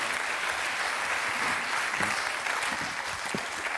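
Audience applause at the close of a French variety show, steady dense clapping that holds at an even level throughout with a few low voices faintly underneath.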